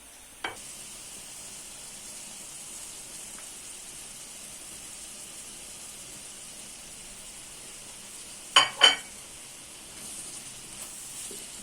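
Steady, quiet sizzle of liver frying in a pan, with two louder bursts of crackling sizzle near the end as peppers are added to the hot pan; the frying hiss continues evenly throughout.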